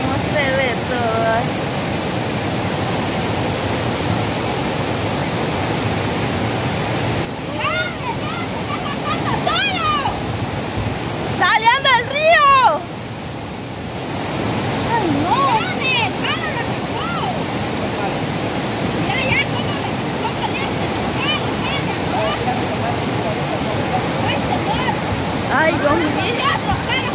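The flooded Naranjo river in El Salvador, overflowing after heavy rain, gives a loud, continuous broadband rush of churning water, briefly interrupted midway, with a few faint voices underneath.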